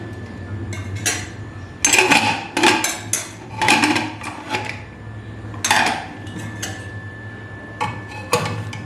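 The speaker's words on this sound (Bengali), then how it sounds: "প্রেসার কুকারের ঢাকনা খুলব স্টিম বেরিয়ে যাওয়ার পর" Metal pressure cooker lid being opened in a home kitchen after the steam has been let out, a series of sharp metallic clanks and clinks in irregular bursts over a low steady hum.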